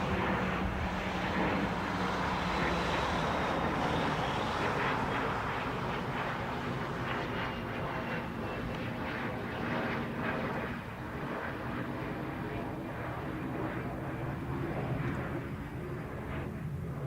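A fixed-wing passenger airplane takes off from runway 28 right at Dublin Airport, a broad, steady engine roar heard from a distance with wind buffeting, holding level throughout.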